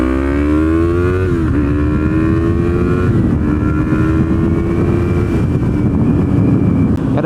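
A Yamaha MT03 motorcycle engine revs loudly and close up, its pitch climbing in steady sweeps with a brief dip before rising again, a continuous strong drone with no talking.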